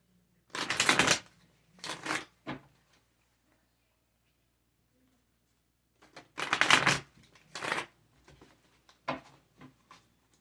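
Tarot cards are shuffled in two bouts of quick riffles, each followed by a few soft taps, close and clear, with a long quiet gap between.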